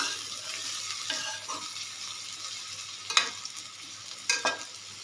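Macaroni and potatoes being stirred in a pan: soft sizzling frying under a spoon scraping and sweeping through the food, with a couple of sharper clinks against the pan near the end.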